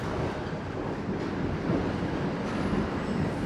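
Steady rumbling roar of a Toronto subway train running past, broadband and continuous with a faint metallic rattle throughout.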